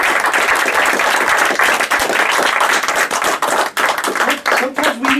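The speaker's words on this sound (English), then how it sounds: "I just want to give him a round of applause to Angel Perez" Indoor audience applause at an entrepreneurship event, dense steady clapping for about five seconds that dips briefly a few times, with no voices over it.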